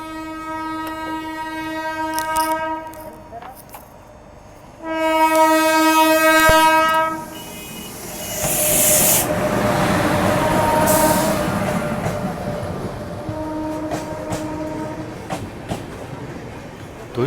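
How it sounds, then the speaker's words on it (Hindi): The Seemanchal Express slowly overtakes a halted train at Dumraon station, its horn blaring in long sustained blasts, then heavy rolling wheel rumble and clatter as coaches pass close by, with faint talk around. "तो इस तरफ से ओवरटेक जो है वो हो रहा है और काफ़ी स्लो रफ्तार में सीमांचल एक्सप्रेस को यहाँ से निकाले जा रहे हैं।"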